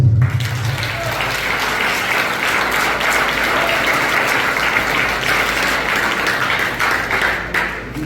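A church congregation breaks into sustained, loud applause that fills the room evenly for about eight seconds, a dense wash of clapping with no pause.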